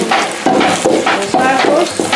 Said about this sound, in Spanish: Primeramente doramos los ajos.